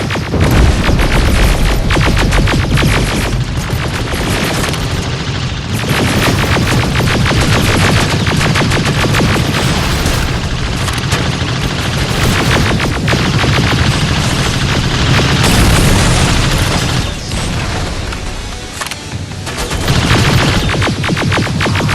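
Dense gunfire and explosions fill a battle in the shooter Terminator Resistance, with loud nonstop automatic fire and booms running the whole time and barely easing near the end.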